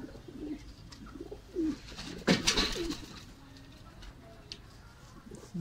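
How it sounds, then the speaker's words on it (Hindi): A white golden pigeon coos in low, rounded phrases at close range, with a brief rustle or flutter in the middle and a voice talking around it. "ये वाइट गोल्डन कबूतर है हमारे, वाइट गोल्डन है।"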